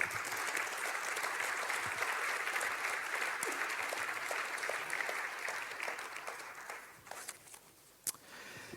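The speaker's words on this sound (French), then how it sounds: "encore un applaudissement pour eux, s'il vous plaît" Sustained audience applause for student entrepreneurs at a closing event, a dense steady wash of many hands clapping that thins and fades toward the end.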